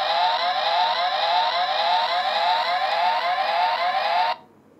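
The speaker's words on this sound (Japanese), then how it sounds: "そしてここの1のボタンを押すと音が鳴ります。" A DX Dekaranger Robo toy sounds an electronic siren-like alarm after its number 1 button is pressed, a loud, steady warbling tone that cuts off abruptly near the end, with no talking.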